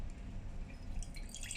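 Water drips steadily out through a homemade funnel while oil stays held back above it, a close, continuous trickle with small splashes and no talk.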